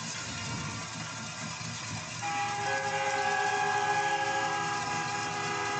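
Train horns blare steadily near a football field during a high school playoff game. The sustained tones rise over a loud, rumbling wash of crowd and field noise and keep sounding without a break.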